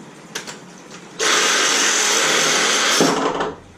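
A power tool cuts a length of 1 1/4 inch PVC pipe in half. After a quiet start it bursts into a loud, steady, high-pitched whine of about two seconds, up close, then cuts off abruptly.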